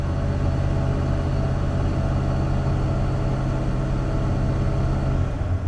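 A junkyard Ford Bullnose truck engine with a faulty sensor holding a high idle, a loud steady drone and rumble that keeps an even pitch before easing slightly at the end, with no voices.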